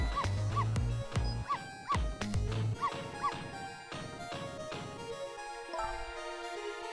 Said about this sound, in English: No, Missile, you're not supposed to bark.